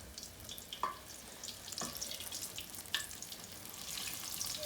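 Shrimp fry in hot oil with a constant close crackle and hiss. Several louder pops and clinks break through the frying.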